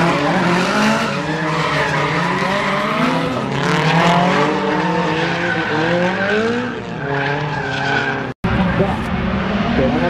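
Two cars drifting in tandem, tires skidding and squealing in long wavering screeches over revving engines, loud and close, broken by one sharp brief dropout near the end.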